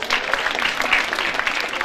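A school audience at a senior talent show gives a short burst of lively applause for a teacher, close and fairly loud, with a crowd murmur mixed in.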